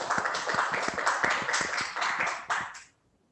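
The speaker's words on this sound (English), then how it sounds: "Give applause to all of the presenters." Audience at an academic international conference on social science and humanities claps for the presenters: a dense round of hand claps at moderate level, staying steady before tapering off and stopping near the end.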